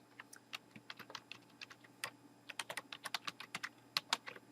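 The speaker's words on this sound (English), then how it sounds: "I'm going to type in happy birthday" Rapid, irregular keystrokes on a computer keyboard while entering text in a software text tool, close and fairly quiet, with clusters of clicks and no one talking.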